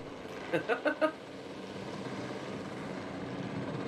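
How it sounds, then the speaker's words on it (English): A helicopter in a dinosaur video game carrying a T-Rex, a steady low engine drone running throughout, with a voice briefly speaking near the start. "flying the helicopter and watching the T-Rex get carried across"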